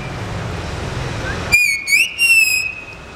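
A person whistles an imitation of the Common Iora's call, a few clear, bright whistled phrases that rise and hold, following a stretch of low background noise.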